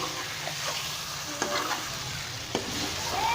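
Spices being stirred and fried in a karahi for chicken karahi, a continuous close sizzle with occasional spatula scrapes against the pan and no voices.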